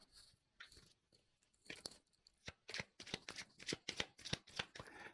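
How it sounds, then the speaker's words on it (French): Tarot cards being shuffled by hand during a French-language reading, a run of quick riffling, crisp papery bursts that start sparse and grow denser and louder, close up with no talking. "je vais prendre d'autres cartes"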